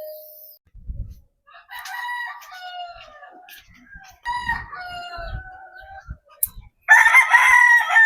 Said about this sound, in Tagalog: ipapakita ko sa inyo yung ating mga natira ditong mga manok na naiwan